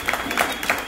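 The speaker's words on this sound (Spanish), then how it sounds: "Un fuerte aplauso." A brief burst of crowd clapping, dense and fairly loud, with a few voices mixed in.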